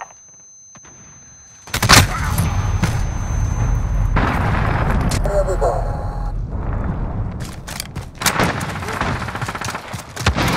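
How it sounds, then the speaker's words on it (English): After a quiet start, a massive blast from an enemy cruise missile in Call of Duty Modern Warfare erupts loudly and rumbles on, followed by scattered gunfire and smaller explosions, with voices heard talking over the battle. "Enemy cruise missile."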